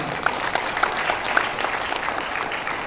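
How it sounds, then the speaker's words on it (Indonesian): At a university graduation ceremony, an audience claps for standing alumni, a continuous crowd applause with scattered sharper claps and a faint voice or two mixed in. "Kasih tepuk tangan."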